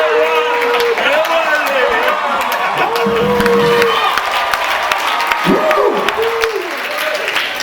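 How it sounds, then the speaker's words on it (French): Applause from an audience at a live French-language gathering with a presenter and performers, a steady wash of clapping and cheering running throughout, mixed with raised voices and speech over the top. "Est-ce qu'on peut encore applaudir?"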